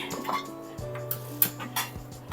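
A spoon scrapes and clinks against a pot while chili powder, salt and coriander powder are stirred in, giving a few light metallic taps and scrapes close by.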